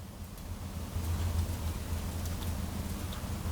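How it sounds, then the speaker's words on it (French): Steady rain falls outside, heard from indoors as an even, continuous soft hiss with a low rumble underneath, moderately loud and unbroken, with no talking. "Non, c'est de la pluie."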